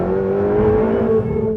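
A Ferrari 488 in race mode accelerates hard, its engine note climbing steadily in a loud, close, smooth howl with no voices over it.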